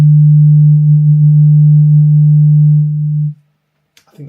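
A steady, loud pure test tone holds for about three seconds, then cuts off abruptly into silence, followed by a brief faint rustle.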